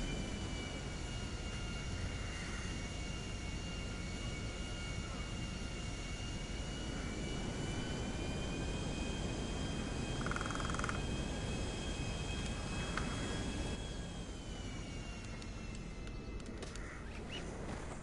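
An airplane engine in a video game drones steadily and loudly, a continuous roar with shifting tones that drops away near the end.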